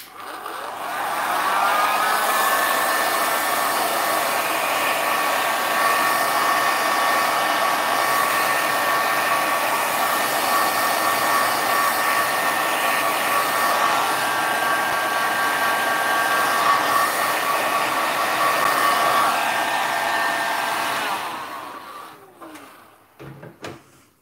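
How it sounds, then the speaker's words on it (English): A heat gun set to low air and low heat blows a steady, loud, even whoosh with a faint whine for about twenty seconds, then cuts off and winds down, used to dry alcohol ink backgrounds. "I'll just use my heat gun. So I'm going to do it on low air,"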